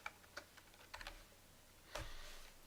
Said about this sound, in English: I'll type a little something here